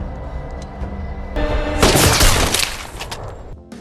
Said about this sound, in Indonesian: dia pun akhirnya menembak dengan snipernya